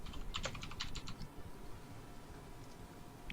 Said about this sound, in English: Typing too hard.